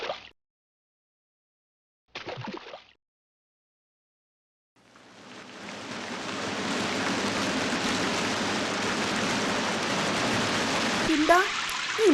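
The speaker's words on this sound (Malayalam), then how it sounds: "എന്താ ഈ മഴ ചോരുന്ന ലക്ഷണമില്ലല്ലോ" Cartoon rain fades in after a couple of short voice bits and settles into a steady, dense hiss of falling rain that continues to the end, with a faint voice near the close.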